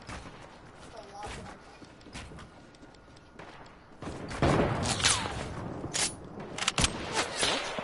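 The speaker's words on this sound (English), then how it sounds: "He got sniped." A sniper rifle shot in a video game rings out as a few heavy booming cracks amid game noise, with players talking excitedly around and between the shots.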